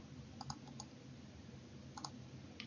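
Computer mouse clicks, a handful of faint, quick, sharp clicks spaced irregularly over quiet background hiss.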